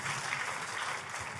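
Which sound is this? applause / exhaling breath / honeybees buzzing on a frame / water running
applause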